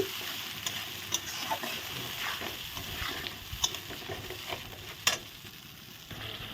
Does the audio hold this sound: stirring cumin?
yes